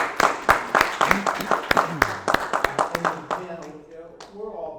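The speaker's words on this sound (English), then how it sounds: "Give yourself a round of applause." Audience at a boxing hall of fame round table discussion clapping in a brief burst of distinct, close claps that thins out toward the end as a voice begins speaking.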